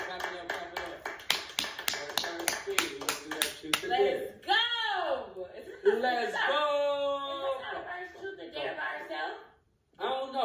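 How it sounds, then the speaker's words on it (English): A couple claps in a quick, rhythmic run of sharp hand claps for about four seconds, followed by chuckling and animated talking. "Clap it up, clap it up, clap it up."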